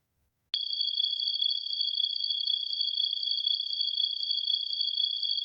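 Crickets chirp in a continuous, shrill high trill that starts abruptly and holds steady and even throughout, heard alone without any voices.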